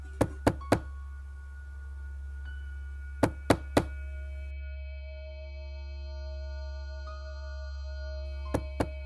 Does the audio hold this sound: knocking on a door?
yes